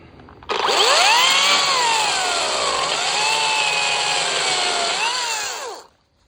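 A Makita DUC254 cordless chainsaw with a 25 cm bar whines steadily at high speed for several seconds, its pitch sagging as it bites into a tree branch, then stops abruptly.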